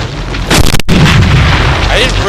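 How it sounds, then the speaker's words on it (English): Cannon blast in the top-down shooter Teleglitch, scattering shrapnel on impact: a sharp booming burst near the start followed by a dense, sustained rumbling roar of debris and gunfire that stays loud throughout, with faint talk underneath. "the cannon actually does something a little bizarre, in that it also shoots off shrapnel whenever you hit an enemy with it"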